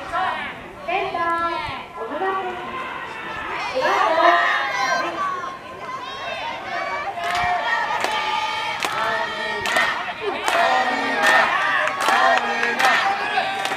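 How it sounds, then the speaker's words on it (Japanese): Crowd cheering and shouting rises from the first-base stands at a high school baseball game in the West Tokyo tournament, a steady roar of many voices with bursts of yells, mixed with speech throughout. "一塁側から大きな声援が上がってます"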